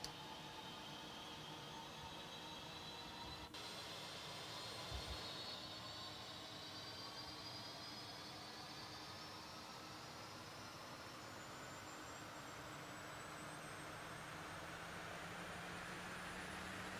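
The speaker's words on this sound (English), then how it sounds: "now you'll see that the engines are spooling" The turboprop engines of a Dash 8 Q400 in the X-Plane 11 flight simulator spool up, a steady dense roar with rising whining tones, loud and constant, no voices.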